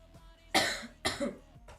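Two loud, close coughs in quick succession from a person who is sick, the second with a short follow-up hack, against a quiet background.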